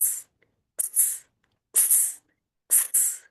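A voice imitates a toy camera taking an X-ray, making four short, breathy hissing bursts, some split in two, separated by brief silences.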